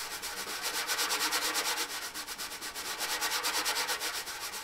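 A wire brush sweeps back and forth across a drum head in a steady fast rhythm, a soft close swishing scrape heard alone, with the tone shifting between strokes at the middle and at the edge.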